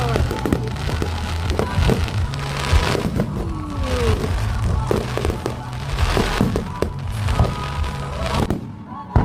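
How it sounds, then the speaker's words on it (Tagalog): Fireworks bursting outdoors in a dense, continuous barrage of thumps, bangs and crackles, loud and fairly close, with people exclaiming and talking faintly among the explosions. "Ang fireworks."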